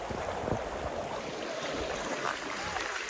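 Floodwater rushes over a road, a broad continuous roar of flowing water mixed with wind buffeting the microphone, steady and close.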